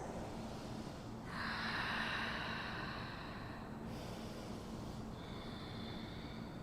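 Slow deep breaths during a yoga flow of standing poses and hand balances: a long audible exhale, then two shorter breaths, all close and airy over a quiet room hum with no talking.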